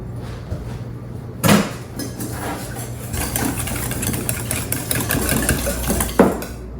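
Salad dressing whisked in a bowl, a run of quick, close clinking and scraping strokes with a few louder knocks against the bowl, over a low steady background hum.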